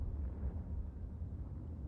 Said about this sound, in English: That explosion was the unknown signal.